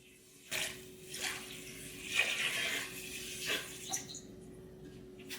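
Water poured into a cooking pot holding premium vermicelli noodles for laksa, a few gentle splashing, trickling bursts close by, fairly quiet, with no talking.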